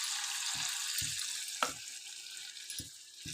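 Gobi manchurian, cauliflower in batter, fries in hot oil with a steady, close sizzle, broken by several soft plops as pieces drop in at roughly even intervals.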